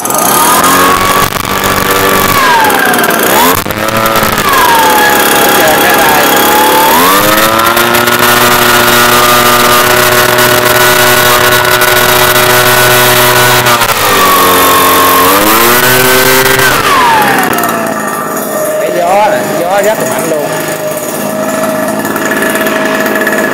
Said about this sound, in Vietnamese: Mình thử máy cho anh em ha, máy đầu bơm xăng.